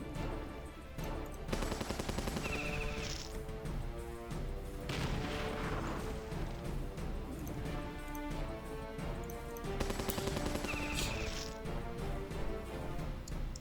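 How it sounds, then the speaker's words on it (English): Turrets fire continuously in the Battle Nations strategy video game, a dense loud barrage of gunfire and bursts layered over game music and effects throughout. "And now I can finish them off with the turrets."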